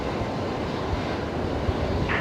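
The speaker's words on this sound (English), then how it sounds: "Qantas A380" A Qantas Airbus A380 jet heard as a steady, loud broadband engine roar that holds evenly throughout the short stretch, with no talking.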